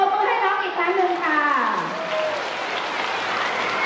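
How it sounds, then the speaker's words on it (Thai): Audience clapping for a child at a National Children's Day 2022 school event in Thailand, steady broadband applause throughout with a voice over the start. "ปรบมือให้น้องอีกครั้งหนึ่งค่ะ"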